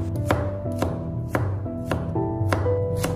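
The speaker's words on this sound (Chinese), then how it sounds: "先把它切成薄片" A kitchen knife slices garlic cloves thinly on a cutting board for a steamed sea bass dish, giving crisp evenly spaced chops about every half second against a steady background hum.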